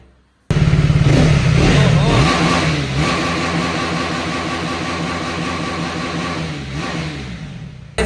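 A KTM Duke 390 motorcycle engine starts with a sharp bark and revs hard before settling into a loud, throbbing, slightly uneven idle close by, with the note wavering and easing off gradually.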